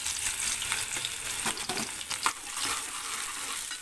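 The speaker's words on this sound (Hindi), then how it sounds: "ऑयल हमारा अच्छे से गरम हो गया है तो मैं इसमें अब प्याज ऐड करने वाली हूँ।" Onions frying in hot oil in a pot, a loud continuous sizzle with occasional stirring scrapes and small pops, close up and with no talking.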